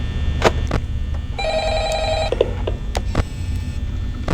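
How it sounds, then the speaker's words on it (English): A telephone rings with a bright electronic trill in the horror video game Five Nights at Freddy's; one burst lasts about a second over a low background hum, with a few clicks and thumps before and after. "But phone's ringing again."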